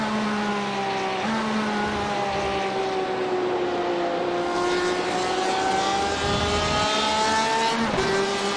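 A race car engine climbs through the revs in iRacing at Suzuka Circuit during a Le Mans Series endurance race, with a steady rising whine, one quick upshift, and a second car's engine passing close by near the end.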